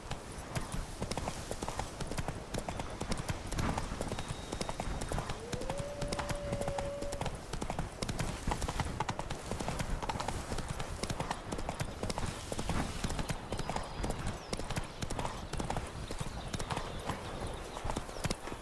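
Roach the horse trots in The Witcher 3: Blood and Wine, with a dense, continuous clip-clop of hooves over ambient game sound and a brief whinny partway through.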